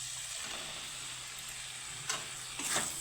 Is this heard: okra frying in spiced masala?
yes